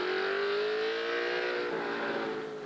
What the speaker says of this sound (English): the 1969 Boss Mustang